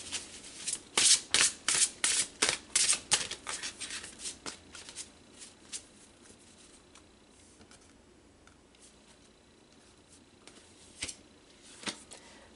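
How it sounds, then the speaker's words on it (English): Cards for a reading are shuffled in a steady run of a dozen close, crisp riffling strokes, then handled more quietly with sparse soft shuffles and taps, with no voice. "let's pull some more cards here"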